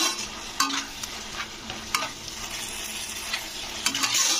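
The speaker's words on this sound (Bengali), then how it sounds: "তো চর্বিটা দিয়ে কিন্তু 2 মিনিট মতন কষতে হবে।" Spice masala fries with goat fat in a pan, a steady sizzle punctuated by repeated sharp scrapes and knocks of a spoon stirring close up, growing a little louder toward the end.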